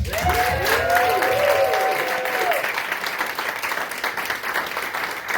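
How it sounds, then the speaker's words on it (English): Audience applause for an award recipient at a teacher recognition event, dense clapping that starts strong, with a brief tonal chime or whistle early on, then continues steadily to the end. "So a round of applause for Kaila"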